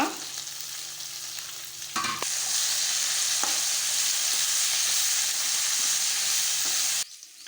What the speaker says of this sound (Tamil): ஒரு கொத்து கருவேப்பிலை ஒரு கை புதினா ஒரு கை கொத்தமல்லி ரெண்டையும் நம்ம நல்லா அலசிட்டு சேர்த்துட்டு நல்லா ஒரு வதக்கு வதக்கிக்கோங்க